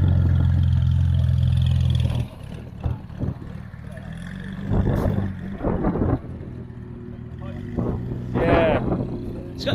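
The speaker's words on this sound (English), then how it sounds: "a TVR Wedge turns up" A TVR Wedge car arriving with its engine running, a loud low rumble at first that eases into a quieter idle while people talk nearby.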